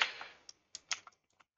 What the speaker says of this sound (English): hit J on your keyboard